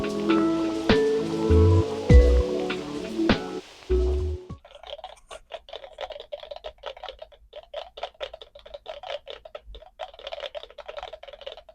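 Rapid, irregular clicking and tapping like small drops patter steadily from a battery-powered DIY rain noise machine's speakers, following a brief burst of louder knocks and handling noise at the start.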